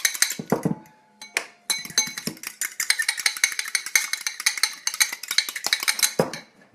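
Utensil rapidly whisking egg in a bowl, a steady run of close, bright clinks and taps against the bowl's side, briefly pausing before resuming at a quick, even rhythm.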